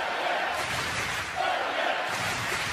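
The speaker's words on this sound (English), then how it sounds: "But the crowd getting right behind him now." Loud, dense crowd noise swelling and cheering throughout a table tennis European Championships final between Timo Boll and Truls Moregardh, continuous roar with a brief dip and renewed surge.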